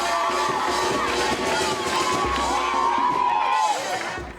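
A school crowd of students cheers as one of them steps up to spin a wheel, with loud, continuous whooping and shouting close by throughout.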